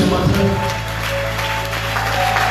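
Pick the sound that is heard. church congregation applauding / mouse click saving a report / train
church congregation applauding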